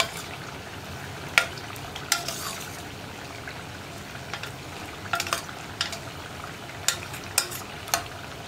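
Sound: stirring curry of green gram and banana stem

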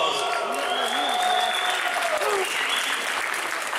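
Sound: crowd applause in gymnasium

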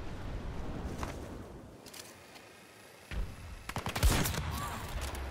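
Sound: gunfire in the video game Battlefield 2042

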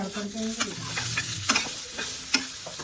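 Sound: raw coconut frying in a pan

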